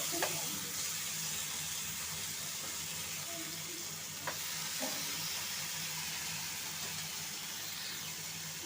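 Fish frying in a pan, a steady soft sizzle running throughout with a few faint clicks of a utensil, no voices.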